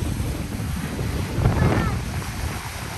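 Strong, humid wind on Turkey's Black Sea coast roars and buffets the microphone steadily, with a low rumbling gust swelling midway through.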